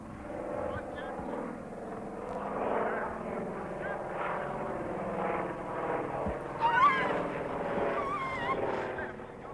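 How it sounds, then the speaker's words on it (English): A relief plane's engine drones steadily in the distance throughout while someone narrates over it. "the British research team wait for the first relief plane to fly in"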